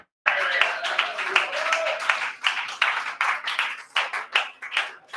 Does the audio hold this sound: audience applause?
yes